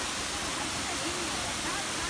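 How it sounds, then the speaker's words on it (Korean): Steady rushing roar of a waterfall at Ein Gedi National Park, a constant broadband wash of falling water heard close, with faint talk underneath. "폭포 봐봐."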